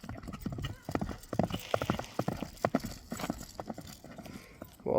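A horse at a horse market trots and gallops nearby, its hooves clip-clopping in a quick, uneven rhythm of loud, sharp strikes, with faint background voices.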